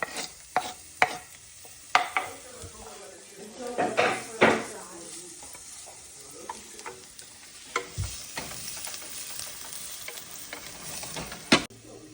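Onions frying in a pan for risotto alla carbonara, a close sizzle under repeated stirring scrapes and clattering knocks of utensils and cookware, with brief bits of talk between the sounds.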